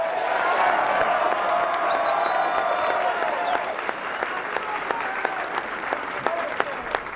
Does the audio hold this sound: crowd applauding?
yes